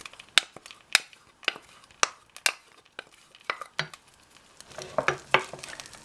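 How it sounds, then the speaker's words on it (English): A spoon scrapes and clinks through thick sauce in a pot as tuna fish is stirred in, with irregular sharp clicks of metal on cookware over quiet squelching. "We're going to stir in the tuna fish."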